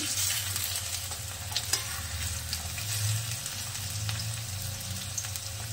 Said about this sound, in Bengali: তো আলুটা একটু ভেজে নিচ্ছি